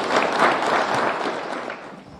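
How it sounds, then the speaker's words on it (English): A short burst of audience applause, dense clapping that swells and then fades, welcoming a guest at a meeting with St. Kitts nationals. "A round of applause,"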